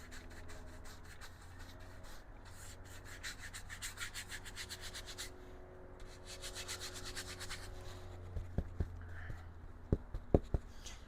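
A paintbrush scrubs paint onto canvas in steady back-and-forth strokes, a soft continuous rubbing close by with no talk, ending in a few sharper taps.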